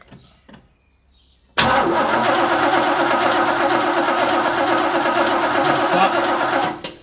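A Holden engine in a Sandman being started for the first time after a build: a short quiet stretch with faint clicks, then it fires abruptly into a loud, steady, rough running roar that carries on before cutting off at the end.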